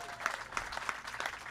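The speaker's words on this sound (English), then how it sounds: "How about more applause for Senator Johnson and Ken Moore?" An audience claps for Senator Johnson and Ken Moore at a community theater proclamation reading, a short, fairly faint spatter of scattered claps with irregular sharper hits.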